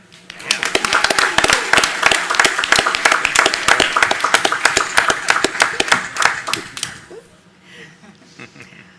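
Audience at a school board meeting breaks into loud, sustained applause of many hands clapping, dense and close, fading out near the end.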